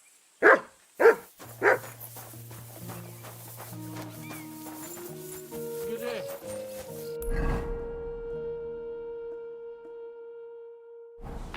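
A dog barks sharply three times in Kingdom Come: Deliverance II, close and loud, then the barking stops and game music, horse clip-clop and ambient sounds carry on.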